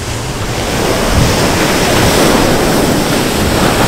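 Hot spring water at outdoor thermal pools surges and splashes in a loud, steady rushing roar, close and unbroken, with wind-like hiss and no talking.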